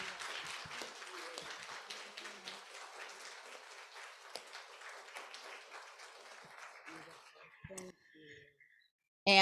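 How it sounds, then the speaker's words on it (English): Applause from an audience at a temple celebration of learning, scattered claps sustained at moderate level for several seconds and thinning toward the end, followed by a brief pause and a sudden loud burst. "Huge round of applause."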